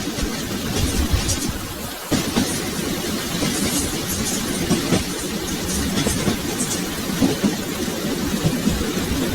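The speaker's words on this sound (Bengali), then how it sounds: "তখনও বৃষ্টি পড়ছে।" Steady rain effect in a cartoon, a continuous broadband hiss with dense patter and low rumble, loud and unbroken throughout with no voices.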